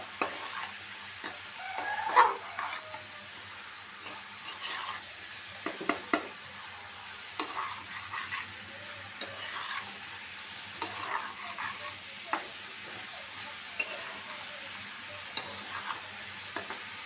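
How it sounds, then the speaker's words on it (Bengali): Eggplant, potato and kachki fish are stirred in a pan, with soft, irregular scrapes and knocks from the utensil over a constant low sizzle. "সবগুলা ভালো করে মিশাই নেব এভাবে"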